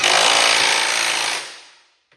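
A power tool tightens the steering box on a Cub Cadet 782-784 tractor, giving a loud, close, rattling whir that holds for over a second and then winds down to silence.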